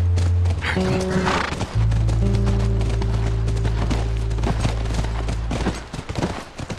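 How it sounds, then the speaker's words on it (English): In The Last of Us, rapid clip-clopping hooves gallop close by with a brief horse whinny, over steady low tones and sporadic sharp cracks like distant gunfire. "That's our horse."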